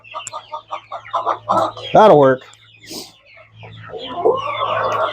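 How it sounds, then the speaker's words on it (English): Hens and little chicks cluck in a rapid, close series of short calls on a chicken ranch, with one louder squawk, followed by a brief spoken remark over the flock's softer chatter. "Look at these little chicks with their newfound freedoms."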